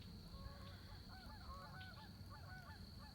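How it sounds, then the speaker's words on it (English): Geese honk repeatedly in a loose chorus, faint and distant, over a steady background hum, outdoors on a farm near a barn. "I hear geese"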